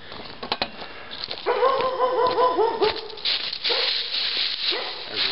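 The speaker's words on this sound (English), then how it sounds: "There's Wild, the neighbor's dog." A neighbor's dog barks outdoors at night near a private disc golf course, a run of sharp repeated barks and yips, fairly close and loud, with a brief whining stretch in the middle.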